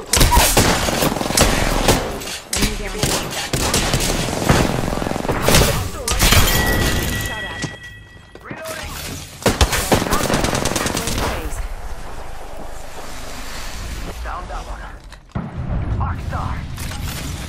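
Heavy automatic gunfire and explosions from a squad-based battle royale shooter game, loud and sustained with brief pauses, mixed with game voice lines and other in-game effects.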